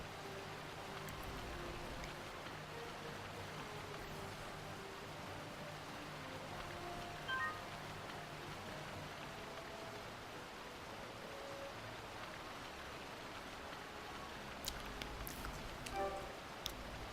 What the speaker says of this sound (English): Oh yeah, it's still raining.